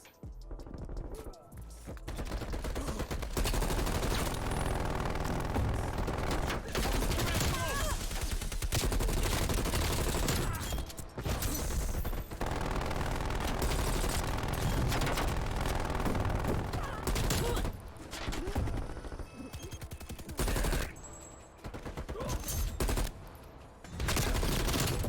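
Rapid bursts of automatic gunfire from a shooter video game played on a PS5 controller, loud and nearly continuous with short pauses between volleys, no talk.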